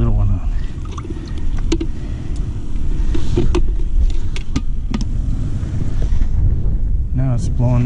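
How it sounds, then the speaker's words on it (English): Strong wind gusting across a frozen lake during ice fishing, a steady roaring rumble buffeting the microphone, loud and close, with a person talking briefly over it. "wind can't make up its mind"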